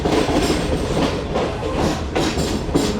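The Shalimar Express rolls in at Raiwind junction, close and loud, with heavy rumbling and a quick rhythmic clatter of wheels over rail joints and no voices.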